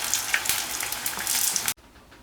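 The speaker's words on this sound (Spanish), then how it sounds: "seguimos así friendo hasta acabar la masa" Beef fritter batter (chulas) frying in hot oil, a steady dense crackling sizzle held close for nearly two seconds before it cuts off abruptly into quiet.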